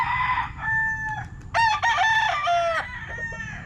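A young rooster stag crows nearby in one strained, rising and falling call lasting about two seconds, with other fowl clucking softly before and after it.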